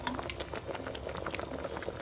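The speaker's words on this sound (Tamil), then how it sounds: "வச்ச உடனே இது இந்த மாதிரி கொதிக்க ஆரம்பிச்சிருப்பாங்க." Tomatoes for homemade tomato sauce or ketchup simmer in a pot on the stove, giving a steady close bubbling and popping patter that runs without a break through the short stretch.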